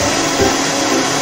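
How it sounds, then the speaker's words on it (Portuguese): Kitchen blender whirs steadily, blending milk, sugar and other ingredients for homemade condensed milk, a continuous motor drone with a slight dip partway through. "batei no liquidificador"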